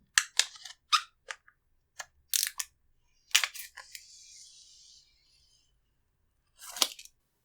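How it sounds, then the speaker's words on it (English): Protective plastic film peeled off the back of a Spigen Ultra Hybrid case for a Pixel 4a: sharp crackling snaps and tearing bursts, then a steady hissing peel lasting about a second, a pause, and a final crackle. "Now let's move around to the back and try peeling that plastic off,"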